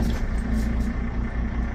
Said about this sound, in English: let's hear what the magnificent engine sounds like